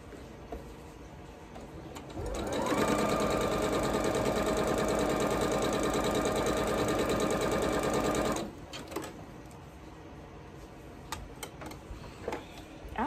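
A sewing machine stitches a scrappy cabin quilt block, starting after two seconds and running in a steady, fast mechanical whir for about six seconds before stopping, followed by light handling clicks.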